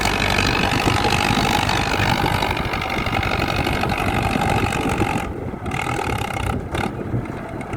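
A farm tractor engine runs continuously at close range while pushing soil to build an entrance road into a rice field, a steady mechanical drone with brief dips in load.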